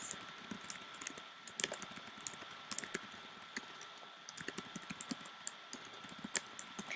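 Fast typing on a computer keyboard, a quiet, steady patter of close key clicks over a faint electrical hum, with no talking.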